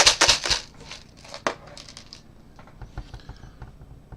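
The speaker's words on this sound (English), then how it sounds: "I'll just get some more screws out." Loose screws for a DeLorean model kit are scooped out of a box, giving quick rattling metallic clatters at the start and again briefly, then sparse faint ticks as they settle, close and alone.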